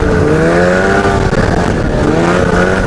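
A Ski-Doo MXZ 700 snowmobile engine revs loud and close, a dense, raspy drone that swells and sags slightly over a few seconds.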